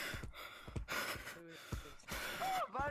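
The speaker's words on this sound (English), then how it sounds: "I'm breathing so heavily right now" Heavy, gasping breaths from a player winded during a parkour match in a VR tag game, several loud inhales and exhales close to the mic with short pauses between them and no talking.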